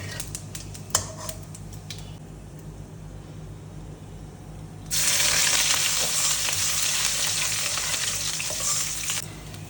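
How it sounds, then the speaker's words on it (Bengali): Cumin, bay leaf, dried chili and ginger tempered in hot oil for a Bengali cabbage ghonto: a few light knocks, then a sudden loud, dense sizzle that bursts in halfway through and holds steady and close to the end. "এরপর এতে ফোড়নে দিয়ে দিয়েছি জিরা, তেজপাতা, শুকনা মরিচ আর আদা"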